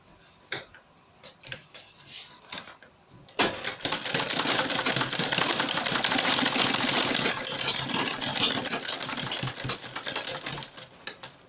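A sewing machine stitches 1-inch webbing into a laptop backpack: a few handling clicks first, then a continuous fast mechanical rattle running close and steady for several seconds.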